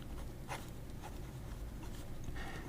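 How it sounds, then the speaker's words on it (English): A fountain pen with a wet, juicy medium nib glides across paper, making faint, soft scratchy strokes in a few short bursts over low background hum, with no talking. "Every time I pull it out, if it has ink, it just writes."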